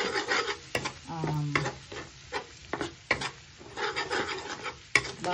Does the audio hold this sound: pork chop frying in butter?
yes